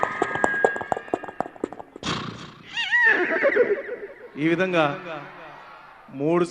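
A voice mimics a horse and a train passing in the distance, producing whinny-like vocal wavers and rhythmic chugging bursts, close and fairly loud, with speech-like phrasing between the imitated sounds.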